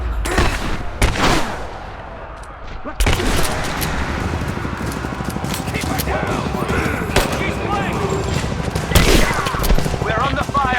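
Rapid bursts of automatic gunfire in the video game Rise of the Tomb Raider, loud and close. Dense volleys roll on almost without a break after a short lull near the start.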